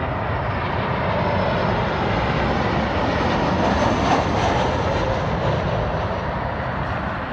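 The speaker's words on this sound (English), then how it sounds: "Here comes the alien jet." A Janet Air jet airliner coming in at the Las Vegas airport on a flight back from Area 51, its engines a steady, loud broadband roar that swells slightly at the middle as it passes, with no voices over it.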